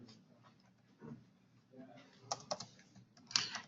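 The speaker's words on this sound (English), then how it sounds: "You don't have to type in your full name if you feel like not typing." Someone types on a computer keyboard in quiet, irregular bursts of clicks, close and faint, with soft room noise between the keystrokes.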